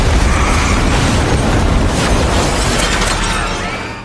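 A car bomb blast in a film attack on a convoy, a loud, sustained roaring explosion with crackling debris that fills the soundscape before slowly tailing off.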